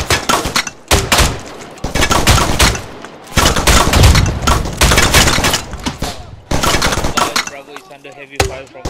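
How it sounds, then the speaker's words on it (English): Heavy automatic gunfire in the ARMA military game, loud dense bursts of shots and impacts with brief pauses between them, the racket fading near the end as a voice comes through. "Bravo is under heavy fire from south side"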